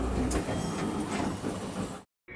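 A Manyosen tram in Takaoka, Japan arrives with a loud, close rumble and rattle of a rail car that runs steadily before cutting off abruptly near the end.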